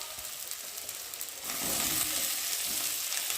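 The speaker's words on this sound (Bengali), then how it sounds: "পেঁয়াজটা একটু ভালো করে ভেজে নেব। দেখো ভাজা ভাজা হয়ে এসেছে একটু। আর এখন আমি দিয়ে দেবো আলু।" Potatoes and onions frying in a pan of oil for a Bengali pabda fish and potato dish give a steady close sizzle that grows louder and fuller partway through, with no talking.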